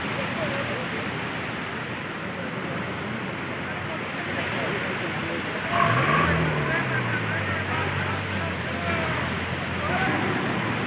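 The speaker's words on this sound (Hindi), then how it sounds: "ये देखें जीपे कैसे ऊपर चढ़ाई चढ़नी है भी," A jeep engine strains and drones low while climbing uphill on a mountain track near a waterfall, beneath a steady roar of rushing water, with a brief rise in revving partway through.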